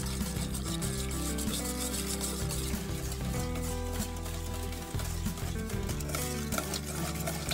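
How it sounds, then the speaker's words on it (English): Tofu and honey stirred together in a bowl, producing a continuous soft rubbing and scraping of a utensil against the dish, steady and close with no talking. "mix it together with the honey and make sure you mix it well"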